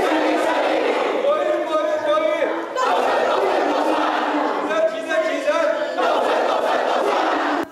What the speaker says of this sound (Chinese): 总召傅昆萁带领喊口号